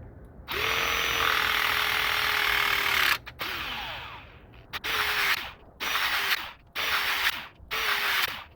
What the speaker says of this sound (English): And we're just going to start crimping.